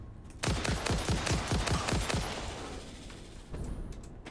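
A rapid burst of automatic weapon fire in the video game Satisfactory, about a dozen sharp shots in quick succession for two seconds before trailing off, loud and close, with no talk.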